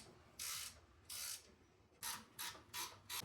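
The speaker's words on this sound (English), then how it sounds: "Tighten the bolts back down." A ratchet wrench tightens suspension bolts during a lift kit install on a Suzuki Jimny, giving six crisp buzzing ratchet strokes, two spaced apart and then four in quicker succession, close and clear with no voices.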